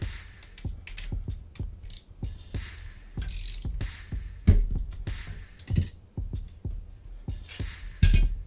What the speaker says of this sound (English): Hold on, gotta get the crank off.